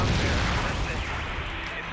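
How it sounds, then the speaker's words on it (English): A loud explosion effect plays during a solo gaming podcast episode: a broad, rumbling blast that stays heavy for about two seconds and fades only slightly. "Ooh, explosion."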